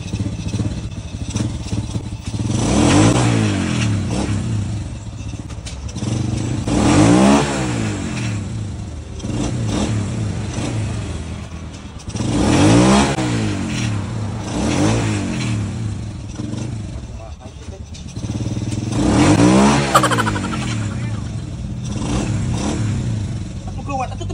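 A motorcycle engine revs up and falls back about five times in a repeating cycle, loud and close, with people talking in between the revs.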